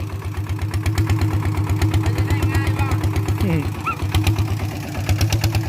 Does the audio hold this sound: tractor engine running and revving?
yes